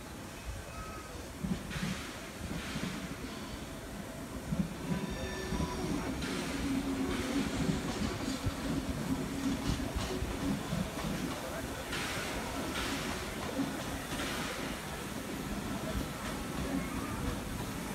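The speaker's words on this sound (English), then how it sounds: "We have a V-set arriving onto platform number 7" V-set suburban electric train pulling into platform 7 at a station during a transport heritage expo, a steady rumbling roll with rhythmic clatter and hiss, moderately distant and even in level, with faint voices in the background.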